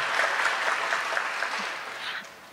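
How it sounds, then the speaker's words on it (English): An audience at a women's luncheon gives a round of applause, an even, fairly loud patter of many hands that tapers off at the end. "Let's give them another round of applause."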